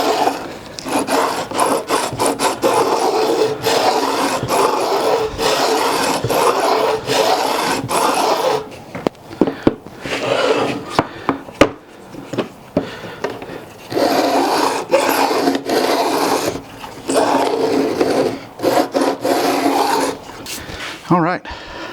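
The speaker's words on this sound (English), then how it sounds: "This will slide across and this will bevel it at a 45-degree angle. And all I'm wanting to do right now is just kind of take the rough ends off the frets." A file rasps back and forth across the rough ends of guitar frets to bevel them at 45 degrees, coming in long, loud rhythmic strokes with brief pauses between runs.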